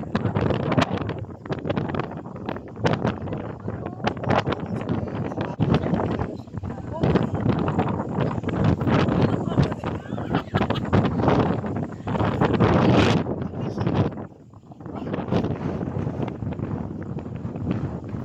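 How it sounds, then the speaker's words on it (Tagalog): Strong wind buffets the microphone in loud, gusty blasts, with a voice speaking briefly through the rumble. "Lakas ng hangin."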